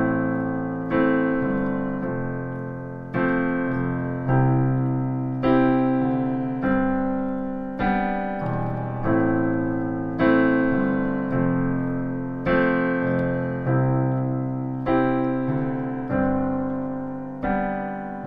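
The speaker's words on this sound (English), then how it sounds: "add passing notes in the left hand and suspended chords, now it sounds like this. I'm going to use octaves in my left hand as well." Solo piano plays an accompaniment of chords with passing notes and suspensions, the left hand adding octaves, in a steady rhythm of sustained strikes rising and decaying for about eighteen seconds, with no voice.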